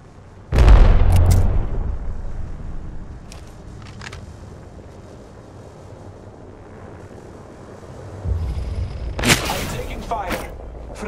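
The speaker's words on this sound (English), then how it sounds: "Throwing Arc Star." An Arc Star grenade explodes in the battle royale game Apex Legends with a loud, sharp electric burst near the start, followed by lower combat rumble and a second cluster of crackling blasts toward the end.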